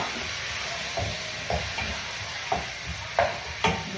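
Squid frying in a hot pan while being stirred, with a steady sizzle broken by five or six scraping stirs at irregular intervals, close and moderately loud.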